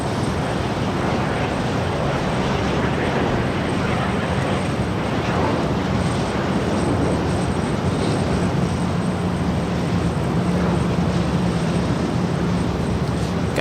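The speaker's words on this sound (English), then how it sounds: "This is Southwest 805 coming in from Denver. It's an 11-year-old 737-700 in the Arizona 1 livery." A Southwest Boeing 737-700 arriving from Denver at Los Angeles LAX makes a loud, steady jet roar that holds constant throughout, with no speech.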